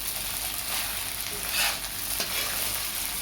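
Sabudana stir-fried in a pan, a continuous close hiss of sizzling with scraping from stirring, steady throughout with no voices.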